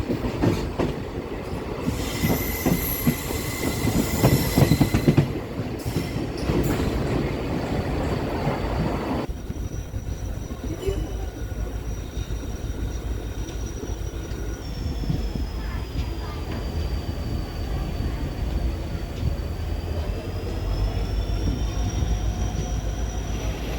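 Passenger train between Sarkhej and Botad running along the track, a steady rumbling roar with clattering wheels and a high squeal of metal later on, close by and continuous, with some talk heard over it early on.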